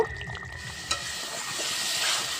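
Spice paste for pangas fish stirred and sautéed in a pan, a steady sizzling hiss with soft scraping strokes and one brief clink, moderately close and alone without talk.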